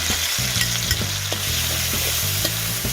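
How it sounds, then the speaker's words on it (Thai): Chilies and garlic hit hot oil for a Thai squid kaphrao stir-fry, producing a loud, dense, constant sizzle with regular scraping strokes of a spatula against the pan. "ต่อไปเหยียดก็จะมาใส่ พริกกับกระเทียมนะคะลงไป"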